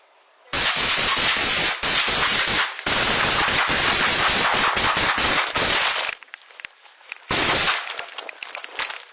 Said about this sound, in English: This is a high-powered rifle.